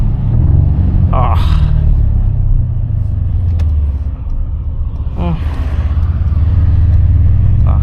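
A Mercedes-AMG C63 S Coupe (W205) engine rumbles loudly and steadily through a lowered window while driving, with a low, heavy drone that swells slightly near the end, plus a couple of brief higher bursts.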